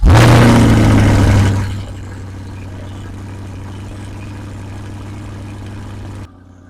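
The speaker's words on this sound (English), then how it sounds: "Now let's hear the exhaust of this vehicle. Let's hear this thing roar." A 2024 Chevrolet Corvette Stingray Coupe 3LT fires up with a loud, sharp exhaust bark that settles within a couple of seconds into a steady, deep rumbling idle close by, then cuts off abruptly.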